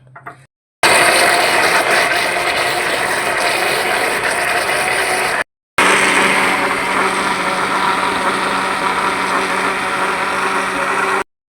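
An electric kitchen grinder pulverizes garlic, ginger, tomatoes and onion for chicken keema, with a loud, steady mechanical whir in two long bursts separated by a brief pause and no talking.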